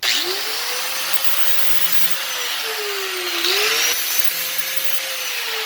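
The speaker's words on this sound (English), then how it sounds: "we're using one of these with 80 grit on there to kind of smoothen up the jagged edges" An 80-grit sander works jagged cut edges of a steel exterior door, giving a steady broadband grinding whir with pitch dipping and rising as pressure shifts, loud and close with no talk.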